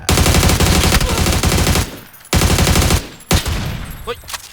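Loud bursts of automatic gunfire in the video game PUBG, long continuous rattling volleys broken by brief gaps, with a shorter burst near the end.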